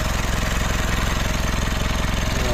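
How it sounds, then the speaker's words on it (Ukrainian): A Mitsubishi Pajero Sport SUV engine idles with a steady pulsing throb, close and loud, with a fast buzzing rattle from vibrating plastic riding on the rhythm; the exhaust leaks slightly. "вихлоп підтікає, бо пластик якийсь вібрує"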